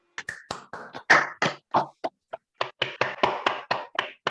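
Scattered clapping from several people comes through a call, irregular and overlapping, with uneven loudness and no voices.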